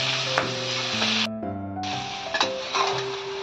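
Large giant freshwater prawns frying in hot oil, with a steady bright sizzle throughout and a sustained tonal hum running beneath it, close and fairly loud.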